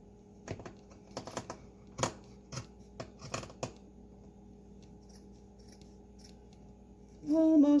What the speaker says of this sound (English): if you kind of pull the fabric out, it makes it easier to cut